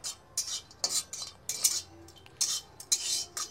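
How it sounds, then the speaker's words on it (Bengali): Cashew nuts are fried and stirred in a hot iron wok, heard as a run of short, bright scraping and clinking strokes in an uneven rhythm, close and fairly quiet, with no talking. "কাজু বাদাম ভাজা হয়ে গেছে।"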